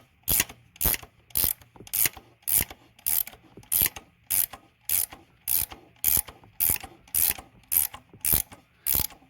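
An AGA valve spring compressor works on a BMW N62 cylinder head from a 2006 BMW 750i, giving about fifteen evenly spaced ratcheting clicks in a steady rhythm, close and alone.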